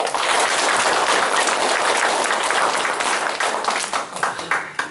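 An audience claps after a lecture on Gyeongbuk independence movement history, with dense sustained applause that thins into scattered claps near the end.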